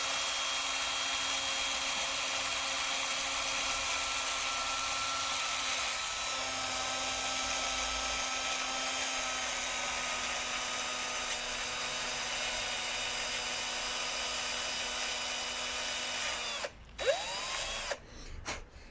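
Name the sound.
scrubbing a motorcycle spark plug with a wire brush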